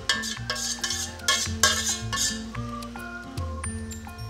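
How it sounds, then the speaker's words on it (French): Pasta with spinach and cream being poured and scraped from a pan into a gratin dish, giving soft wet squelches and stirring scrapes with a few clinks of utensil against the dish, close and moderately loud, with a faint music bed underneath. "Tant que c'est chaud, je verse le tout dans mon plat à gratin."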